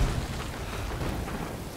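Rain pours down in the video game Death Stranding, a dense, continuous hiss of heavy rainfall with low rumbling underneath, loud and close, with no talking.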